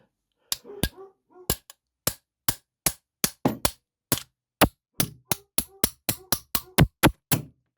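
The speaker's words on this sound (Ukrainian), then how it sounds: "Автомобільний молоточок." Sharp metallic blows from a small automotive hammer, about twenty in total, coming irregularly at first and then quickening into a steady rapid series, loud and close, while knocking out a speedometer gear on a Muravey motor scooter.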